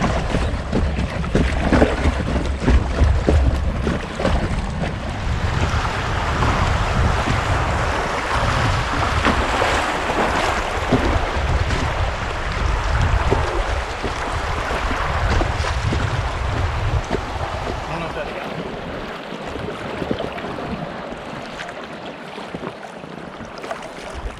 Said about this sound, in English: the wind kicks up, 20-mile wind in your face